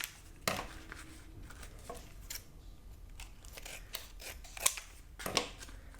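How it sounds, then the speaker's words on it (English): Scissors cutting card paper for a handmade autumn money holder card, several crisp snips spaced irregularly, close up and fairly quiet, with no talking. "Then I'm going to cut it down a little bit so that I could tuck it about where that crease is."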